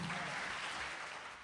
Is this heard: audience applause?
yes